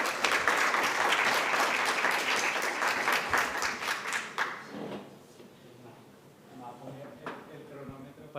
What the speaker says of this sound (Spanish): voy a pedir un aplauso para Pedro Lozano